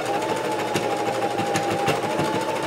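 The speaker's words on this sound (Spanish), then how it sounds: "lo que vamos a hacer va a ser solo juntarlo y coser recto para cerrarlo" A sewing machine runs steadily as it stitches a straight sleeve seam on a blouse, giving a close, even, rapid mechanical whir with no pauses.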